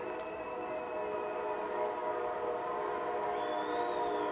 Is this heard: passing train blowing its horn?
yes